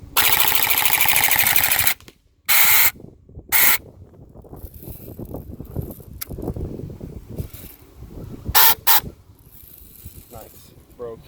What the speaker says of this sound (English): we're going to put some rounds on target here